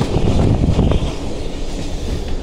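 Steady rumble of a moving train carriage being pulled backwards along a heritage line, with continuous low-frequency rolling noise and some wind buffeting, constant and fairly loud throughout.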